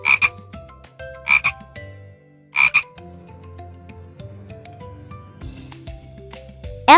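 Tree frog in a jungle setting croaking in several loud, rapid bursts spaced about a second apart, over a layered background of other insect and frog calls.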